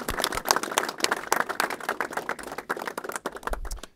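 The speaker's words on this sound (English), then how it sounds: "let's please give them a round of applause" Applause for crime victims at a press event held by local legislators in Albany: a small crowd claps in dense, uneven bursts for several seconds, close and alone without speech.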